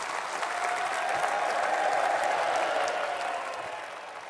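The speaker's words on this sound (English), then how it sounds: "Cheers and applause for Boris Johnson then." Cheers and applause from a Conservative Party conference crowd for Boris Johnson, a dense, sustained roar of clapping that swells to a peak midway and then slowly tapers, with no speech over it.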